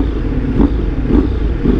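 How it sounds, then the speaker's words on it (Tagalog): A Ducati Multistrada V4S motorcycle engine rumbles and blips its throttle a few times in quick succession, close and fairly loud, with no talking. "Dito sa Multistrada, ang sarap bomba-bombahin ng mga papitik-pitik."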